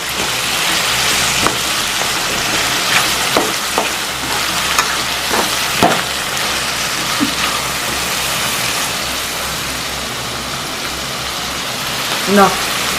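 Onions, tomatoes, green chillies and chilli powder fry in a pan for a dried-fish curry, giving a steady close sizzle with occasional scraping stirs and a voice talking over it.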